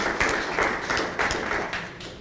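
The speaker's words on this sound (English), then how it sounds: "go ahead and give them a round of applause." An audience at a First Friday concert series applauds, a sustained rush of many hands clapping that comes in uneven surges throughout, with no talking over it.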